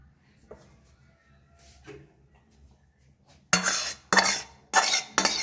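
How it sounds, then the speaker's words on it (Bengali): Ghugni, a spiced pea curry, is tipped from a cooking pot into a bowl, giving three loud, close scraping clatters of utensil on metal after a few quiet seconds of faint kitchen noise. "হয়ে গেল, এবার এটা আমি একটা বাটিতে ঢেলে দিলাম।"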